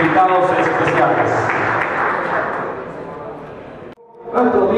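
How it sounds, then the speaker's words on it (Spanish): Loud applause from an audience at a baseball team's press conference, sustained and dense, tapering off, a brief drop, then clapping swells again. "Damos un fuerte aplauso también a Ricky"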